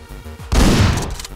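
A shotgun blast goes off in the top-down action game Hotline Miami: one sudden, loud, booming shot that decays quickly, with no talking.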